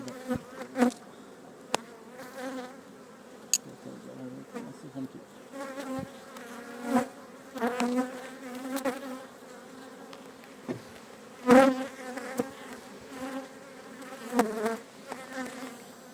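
A dense, continuous buzz of many honeybees at the hive in winter hums steadily, with individual insects droning louder as they pass close by.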